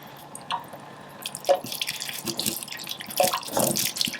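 A potted plant is washed under running water, with irregular splashes and drips of varying strength, close by and without talk.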